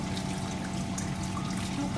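Water runs steadily through a half-opened valve on an orifice meter rig in a lab, a continuous close trickling hiss with a faint tonal hum underneath and no breaks.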